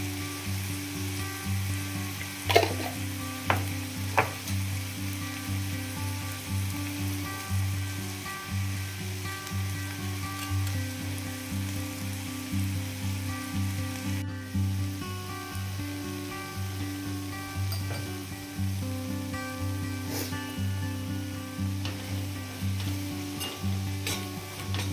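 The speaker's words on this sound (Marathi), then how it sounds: "थोडंसं बेसन पीठ ॲड केलं, परतून घ्यायचं आणि लगेचच ही भाजी तयार होऊन जाते" Vegetable sabzi stir-fried in a pan with spices and gram flour, giving a steady sizzle across the whole stretch with a few sharp clinks of a stirring spoon, close and without talk.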